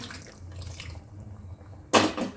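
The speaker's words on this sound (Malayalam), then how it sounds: "പാലക്കിൻ്റെ ഇല വേവിച്ചതിൻ്റെ ബാക്കി വെള്ളമാണ് അത് ഒഴിക്കുക" Leftover water from boiling spinach leaves being poured into a palak paneer curry: quiet room tone, then a sudden close splash and gurgle that lasts about half a second.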